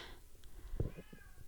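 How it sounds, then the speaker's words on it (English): A house cat gives a short meow close by, a single brief call over quiet room noise. "Sorry about the cat."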